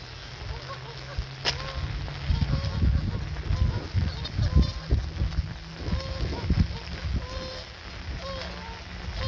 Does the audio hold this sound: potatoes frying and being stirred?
no